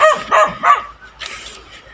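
A mother dog with newborn puppies barks three quick times nearby, followed by a fainter yip or whine and some background rustling.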